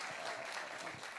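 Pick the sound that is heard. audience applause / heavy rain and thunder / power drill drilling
audience applause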